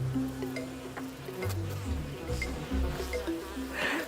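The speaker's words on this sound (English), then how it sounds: "Other insects, including bees, are also attracted to the bait." Bees buzz around bait traps in the Colombian wilderness, close, droning hums that rise and fall in pitch as the insects fly near, continuous for several seconds.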